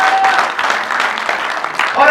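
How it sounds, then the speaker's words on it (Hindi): Audience applause at a Hindi poetry recital, a brief dense burst of many hands clapping at close range for about two seconds. "एक बार आप लोग अपने लिए जोरदार तालियां बजा दीजिएगा"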